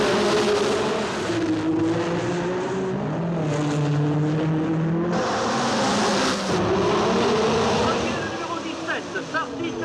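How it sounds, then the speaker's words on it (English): Formula One cars racing through the streets of Monaco at the Grand Prix, with a loud, close engine roar rising and falling as a red Ferrari and others pass, under continuous commentary. "Now it's Sarti in the red Ferrari, number 17, leading, past the Hotel de Paris and into the Casino Square."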